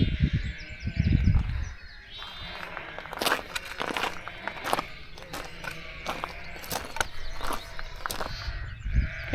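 A flock of sheep in the Lake District hills calls out in overlapping bleats, loud at first, then a string of scattered cries near and far over crunching footsteps along the trail.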